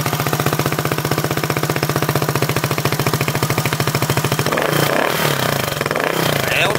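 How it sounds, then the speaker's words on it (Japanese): A Yamaha Cygnus X scooter with an aftermarket Bamble muffler idles with a loud, rapid exhaust pulse close by, then revs up sharply near the end, with voices briefly over it. "バンブルのねこのマフラーめちゃめちゃええ音しますよね"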